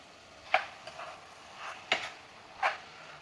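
A spoon stirs turmeric and beetroot into mutton curry in a pan: three quick, close scraping strokes, evenly spaced, over a quiet, faint sizzle.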